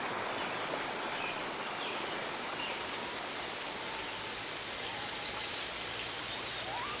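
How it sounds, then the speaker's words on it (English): Steady broadband hiss of waterfall spray and falling droplets at a waterhole, constant and fairly loud throughout with no voices. "Spray from the waterfall, allowing her to collect droplets of water."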